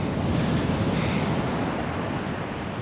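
Mediterranean Sea waves wash against the shore in a steady, close rush of surf, with wind buffeting the microphone and no voices.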